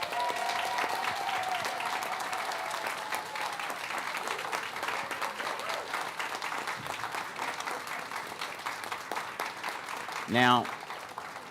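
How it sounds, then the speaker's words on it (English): An audience at a school board meeting applauds award winners, steady mid-level clapping filling the room while someone speaks over it, ending with a brief louder clatter. "please give our 2024-25 Shine Light Award winners a round of applause"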